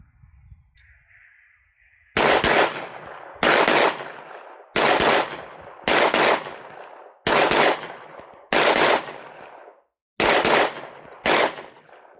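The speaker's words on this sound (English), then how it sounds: "What I'm going to do is fire 2 shots in each target and transition back and forth." Eight sharp gunshots ring out in pairs at a shooting range as a handgun with a red dot sight fires at two targets, each crack loud and close with a short echoing tail after a quiet start.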